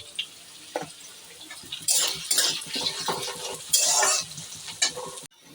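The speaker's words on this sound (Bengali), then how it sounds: "পেঁয়াজগুলো ভাজা ভাজা হয়ে গেছে" Onions sizzle and crackle in a hot pan, with close scraping strokes of a spoon stirring them now and then. No one speaks.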